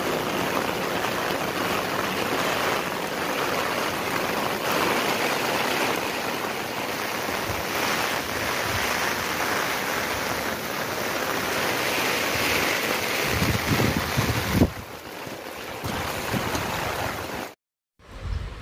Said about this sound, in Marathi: वादळी वारा आणि मुसळधार पाऊस पडत आहे